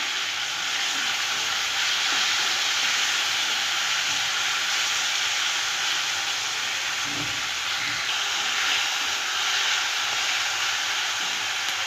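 Tomatoes lightly frying in a pan in a Bengali village kitchen, giving a steady, even sizzling hiss that holds unbroken throughout with no voices.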